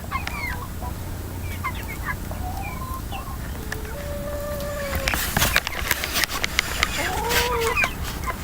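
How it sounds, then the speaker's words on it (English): A flock of 23 chickens, including a rooster, clucks and murmurs continuously nearby, with rising calls overlapping and some scuffling and rustling noises in the background. "So in total there's 23 chickens including the rooster"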